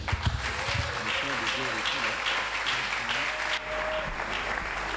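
Church congregation applauding to welcome a preacher to the pulpit at a Sunday service; dense, steady clapping throughout, with a voice and drawn-out cheering or singing tones woven through the middle.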